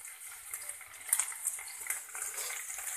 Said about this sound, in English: And we need to fry this.